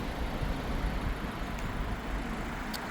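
Road traffic keeps up a steady, low rumbling roar near a parked Suzuki Vitara, a broad constant wash of passing vehicles with no voices.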